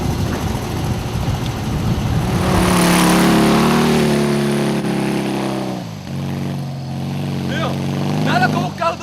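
A car engine revs hard and accelerates, a loud rising drone that swells and then fades as the vehicle pulls away, with brief bright squeaks near the end and voices mixed underneath.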